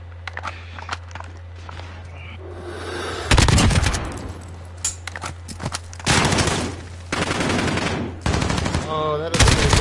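Rapid automatic gunfire in Call of Duty: Modern Warfare, with loud bursts of shots breaking out repeatedly over a steady low hum, interspersed with quieter stretches of scattered distant fire.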